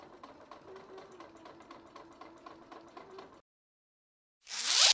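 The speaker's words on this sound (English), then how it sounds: "now I'm going to top stitch close to the seam line" A sewing machine topstitches close to a bodice seam line with fast, even mechanical stitching for about three seconds, then goes silent before a brief loud rustle at the end.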